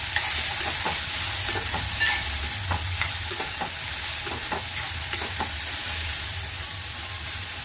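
Peas and peanuts fry in a hot pan while a spoon stirs them, giving a continuous sizzle with repeated scraping clicks, close and steady, with no one talking.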